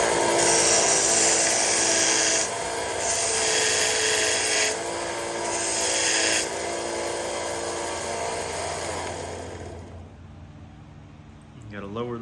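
A power tool grinds continuously for about ten seconds, loud and close, as a flint-knapping tool is sharpened, then cuts out, leaving a brief quiet with some speech.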